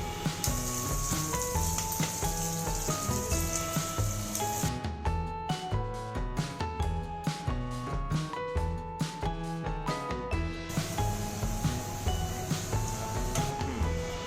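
Corn kernels fry in hot oil for crispy corn, a steady loud sizzle and crackle that runs throughout, with no talk.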